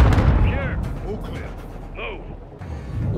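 An explosion goes off in Call of Duty: Modern Warfare II, a heavy low boom at the start that rolls away beneath game sounds, with people talking over it.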